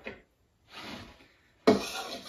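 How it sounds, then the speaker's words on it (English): A big spoon scrapes and stirs baking soda into a dry flour mixture for banana bread, three short, close scraping passes around the bowl separated by brief pauses. "just going to use a big spoon and make sure that baking soda gets stirred into this flour mixture real good"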